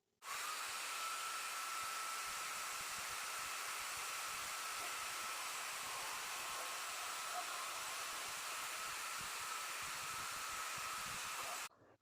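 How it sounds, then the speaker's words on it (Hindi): An angle grinder fitted with a paper blade cuts thermocol, a steady high whirring hiss running evenly for about eleven seconds before stopping abruptly. "अब इसको कट करके देखेंगे कि ये ब्लेड इसको काट पाएगा या नहीं। तो चालू कर लेते हैं हमारे ग्राइंडर को।"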